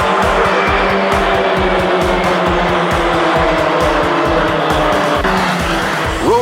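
Formula Ford race cars racing at Lime Rock Park, a loud, close, continuous engine roar with a rapid pulsing rhythm as several cars run together at speed.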